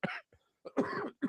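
A man with allergies coughs and clears his throat: a short cough, a brief pause, then a longer rough hacking burst and one more quick cough, close and loud, alone.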